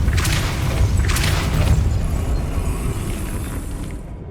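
Depulso spell blast in the video game Hogwarts Legacy, a heavy booming burst with deep rumble and a couple of sharp crackling accents early on, decaying into a fading low roar.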